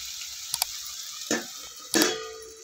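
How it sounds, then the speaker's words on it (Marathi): Diced potato frying in ghee in a covered pan on low heat, a soft steady sizzle with a few brief clinks and taps of a lid or utensil, quiet and close. "बटाटा आपण चांगला ह्यामध्ये परतून घेतलेला आहे तुपावरती"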